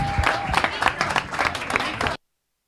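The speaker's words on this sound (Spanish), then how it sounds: "Un aplauso" Audience applause at a talk session, a crowd clapping steadily for about two seconds before cutting off abruptly; some murmuring voices mix in.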